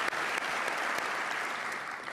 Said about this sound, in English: Clap that up right there.